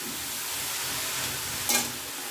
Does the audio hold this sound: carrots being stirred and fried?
yes